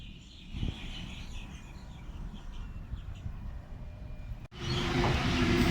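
A train at Epping station during the afternoon peak gives a steady, broad rumble with faint birdsong above it, then cuts abruptly to a louder, fuller roar near the end.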